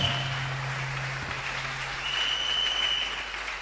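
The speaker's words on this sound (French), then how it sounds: "God bless you for clapping." A church congregation at a New Year's Eve service applauds, a dense and steady wash of clapping that fills the room for a few seconds, with a faint tone ringing through it.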